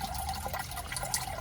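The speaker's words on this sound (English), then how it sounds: "there's just the water coming down" Water trickles steadily down inside a hydroponic Dutch bucket planted with seedlings, a soft continuous splashing and dribbling that stays faint and close with no voices.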